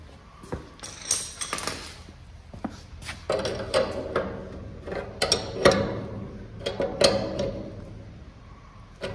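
Metallic clicks, taps and ratcheting creaks from a 19 mm flat wrench tightening the handle on a VPS 2241 VR E panel saw, irregular close-up knocks and turns in a quiet workshop.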